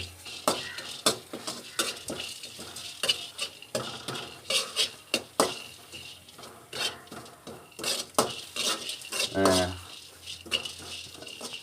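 Ingredients roasting in a pan over a low flame, stirred with a utensil that scrapes and clinks against the metal in an irregular rhythm of close, sharp knocks over a faint sizzle.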